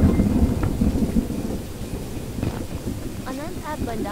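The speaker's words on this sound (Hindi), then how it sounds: "बारिश हो रही है" Rain and thunder in a car-theft video game: a low rumbling thunder roll with steady rain hiss, loud and continuous, with faint other game sounds toward the end.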